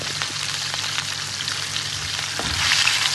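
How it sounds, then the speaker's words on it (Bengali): Large tilapia fish frying in a pan of oil, a steady broadband crackling sizzle throughout with scattered pops, close and fairly loud, growing slightly more intense near the end. "এগুলো ভেজে নিচ্ছি খুব কষ্টে উল্টাতে হচ্ছে"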